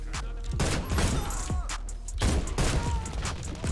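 Shotgun blasts in the online shooter Warface, several loud, sharp booms in quick succession with echoing tails, mixed with game background noise.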